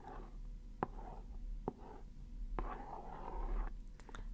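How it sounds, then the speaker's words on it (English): A fingertip traces across a box in a close, quiet ASMR scratch, soft continuous rubbing with a few faint taps, no voice. "I'm going to be writing some things, or rather just tracing"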